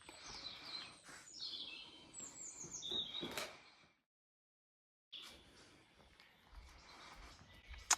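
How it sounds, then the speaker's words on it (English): Songbirds chirp and trill on a chateau terrace, bright repeated calls coming near and far, a short silent gap in the middle before the birdsong resumes. "it always seems to have the beautiful singing birds"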